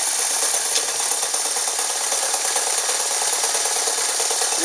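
Sears Kenmore sewing machine sewing a straight stitch: a steady, fast mechanical chatter and whir, close and continuous, with no talk over it.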